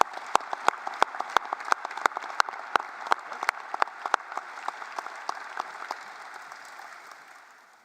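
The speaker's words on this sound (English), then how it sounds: "I would a round of applause for everyone here" At a city event honoring emergency responders, a sparse group applauds, with distinct, fairly close individual claps over a softer wash of clapping that fades toward the end.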